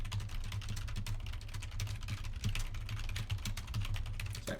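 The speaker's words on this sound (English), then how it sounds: "That's me typing a response to your email here." Typing on a computer keyboard, a quick uneven run of light clicks and taps, close and fairly quiet, continuous with no talking.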